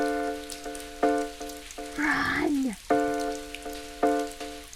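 Rain patters steadily on a surface in the background while repeated bright musical chimes play and a shouted voice cuts in briefly in the middle.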